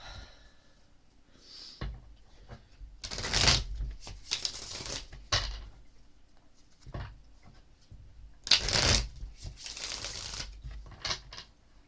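Cards are shuffled in two quick riffling bursts, crisp and close, with quiet handling and soft rustles in between.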